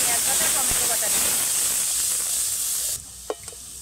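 Garlic and ginger paste frying in a pan makes a loud, steady sizzle and hiss that cuts off abruptly near the end, followed by a couple of faint clinks.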